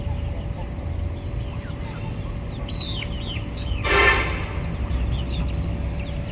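A young Turkish-breed hen clucks and chirps in short bursts, with a sharper squawk near the middle, over a steady background hum in a home yard.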